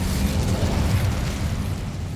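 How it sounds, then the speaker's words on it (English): Incendio fire spell cast in the Hogwarts Legacy video game, a steady, loud rumbling burst of flame that holds heavy low-end roar for about two seconds with no voices over it. "Incendio!"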